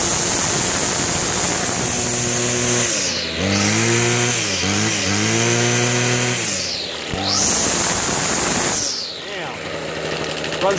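A Toro 51976 25cc straight-shaft gas string trimmer engine runs loud and close, whining at high throttle with revs that dip and surge several times over about ten seconds.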